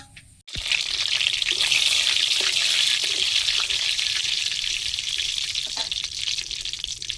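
Dry red chillies and dal tipped into hot oil, setting off a loud, steady hiss and crackle of frying that starts abruptly and carries on close up without any talk.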